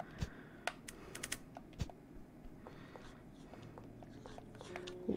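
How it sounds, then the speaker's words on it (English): Crunchy, munchy chewing in the horror video game Mad Father, a steady run of small crisp clicks and crunches at low volume. "What do I hear crunchy, munchy sounds?"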